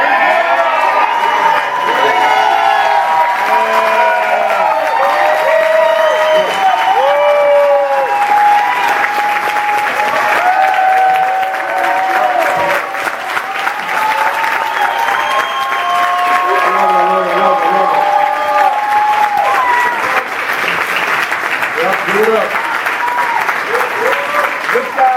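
A large crowd at a hero-honouring event bursts into sustained applause and cheering, with dense clapping, whoops and shouted voices all loud and close throughout.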